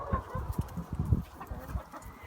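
Chickens in a chicken house give short, irregular clucks and low bursts close by, with quiet rustling between the calls.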